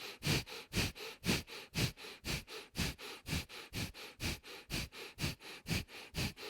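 Breath of fire in a seated yoga practice: about twenty rapid, forceful nasal exhalations pulse in an even rhythm, close and fairly quiet, with no talking over them.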